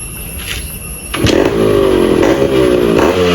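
Yamaha RX two-stroke motorcycle engine running, quieter at first, then louder and steadier from about one second onward, with a buzzy, uneven engine note.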